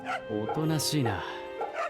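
Dog sounds from the video game Fate/Samurai Remnant, a few short yips and bow-wows mixed with someone talking over them at close range.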